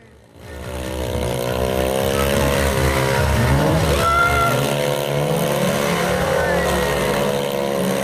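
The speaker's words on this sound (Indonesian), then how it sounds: "Event komunitas motor Baiman ini dimeriahkan dengan aksi freestyle dengan sepeda motor serta mobil" Motorcycle and car engines rev loudly during freestyle stunts at a motorbike community event in Banjarmasin, a continuous roar with rising and falling pitch sweeps that starts abruptly and holds strong throughout.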